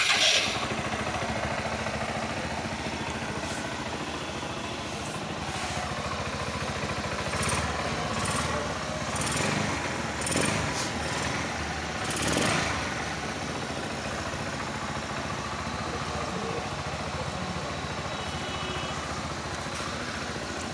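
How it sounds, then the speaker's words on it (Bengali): A Bajaj Pulsar NS160 motorcycle, its crankshaft engine-noise fault repaired, idles in an even, steady rumble close by, with a few faint rises in revs and no talk. "আমি গাড়িটা একবার স্টার্ট করে দেখে নিই যে ইঞ্জিনের সাউন্ডটা আগের থেকে ঠিক হলো কি না"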